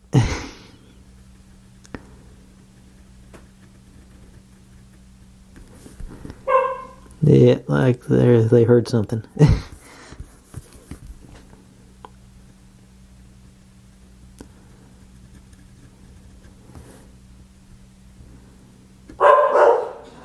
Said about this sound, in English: Something's going on outside, and the dogs are barking.